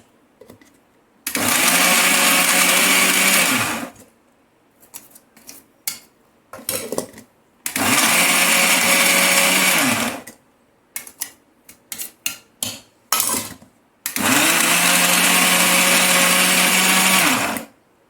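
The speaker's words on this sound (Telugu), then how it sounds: "కరివేపాకు వేసినాక ఎక్కువ పట్టొద్దు అనమాట మిక్సీ," A kitchen mixer grinder grinding fenugreek seeds, curry leaves and salt into spice powder runs in three loud whirring bursts of about three seconds each, separated by clattering and tapping of the jar between runs.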